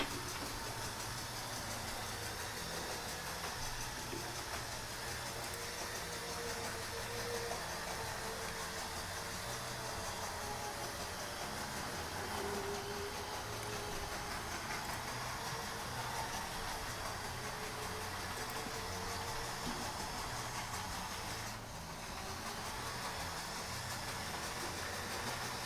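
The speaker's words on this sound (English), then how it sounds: "I'm going to have to tune this loco up. He's not happy. I mean, it's working, but it's a wee bit noisy." A model train locomotive runs noisily on its layout, in need of tuning and cleaning, with a steady, continuous mechanical hum and rumble that holds at a constant level throughout, close by and without talk.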